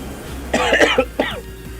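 A close, harsh cough in two or three rough bursts, followed by a short throaty hack, with no talking.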